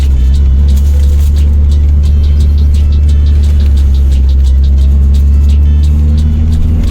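A second-generation Eagle Talon DSM cruising along, its engine a loud, steady low rumble heard from inside the car with road noise and faint ticking, no voices.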